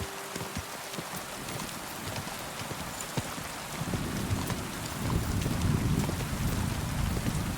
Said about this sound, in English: Very nice sounding rain.